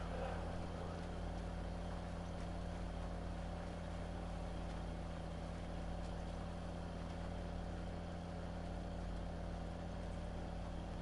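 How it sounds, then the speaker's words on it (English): A 240-horsepower tractor engine in Farming Simulator 19 drones at a steady low rumble, a constant mechanical hum running unbroken for about eleven seconds with no voices over it. "I love this tractor."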